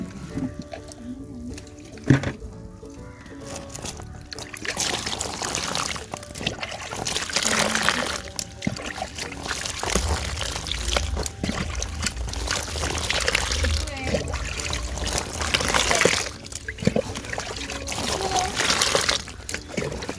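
Water pours steadily onto cocopeat in a close, continuous rushing stream with splashy bursts, swelling and easing over about twenty seconds.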